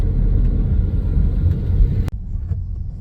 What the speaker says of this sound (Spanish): Y así es el ambiente de las motos en el tráfico del día a día.